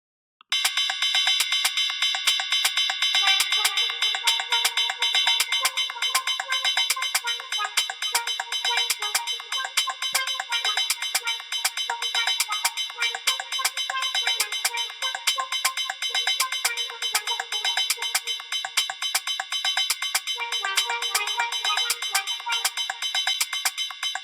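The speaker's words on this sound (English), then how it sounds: "I can increase the volume of the um, synthesizer track." A synthesizer track playing in Soundtrap, heard as a dense, bright electronic loop of rapid repeating metallic hits with a sustained tone underneath, steady and loud for over twenty seconds.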